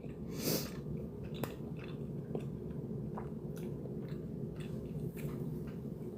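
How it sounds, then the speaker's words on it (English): A person munches and chews food close up during supper, with soft, irregular wet bites and crunches over a low steady background. "I'm sorry you have to hear all my munching."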